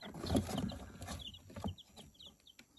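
Mixed village chickens cluck and murmur close by, with a few higher chirps from smaller birds mixed in, moderately loud at first, then quieter.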